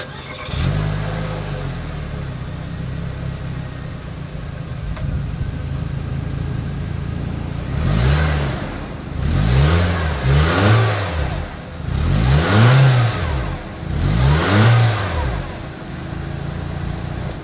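A 2020 Nissan Kicks with a single exhaust starts and idles, then gets revved in several short, loud bursts, each rising and falling, with steady idle between them and no talking.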